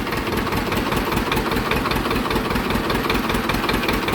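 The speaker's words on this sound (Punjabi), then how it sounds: "ਟਰੈਕਟਰ ਨੂੰ ਹੱਥ ਨਾਲ ਹੀ ਕਲਚ ਦੱਬ ਕੇ ਸਟਾਰਟ ਕਰਦਾ" A tractor engine idles close by, a steady low rumbling chug that continues evenly throughout without any talking.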